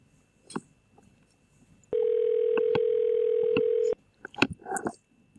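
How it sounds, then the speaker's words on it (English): A browser-based phone dialer plays a steady telephone tone, one continuous ring-back burst of about two seconds. Clicks come before and after it, then soft noises at the end. "I'm going to start dialing him"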